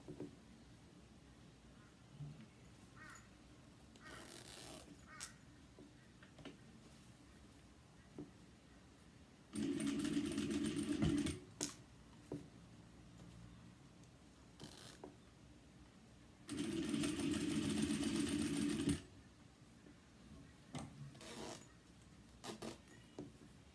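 Sewing machine basting a seam on a cross body bag panel, two short steady whirring runs separated by quiet handling noises, fairly faint and close.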